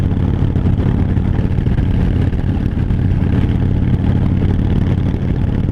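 A 2016 Harley-Davidson Fat Bob motorcycle underway, its engine a steady, loud, close rumble with clattery texture throughout, no voices.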